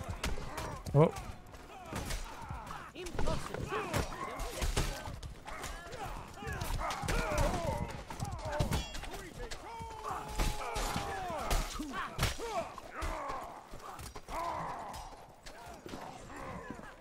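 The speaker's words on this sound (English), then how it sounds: "I'm hearing the horses." Horses gallop in the medieval combat game Mordhau, with hoof clip-clop rolling steadily through a noisy battlefield mix of clashes and shouts, while a player talks over it.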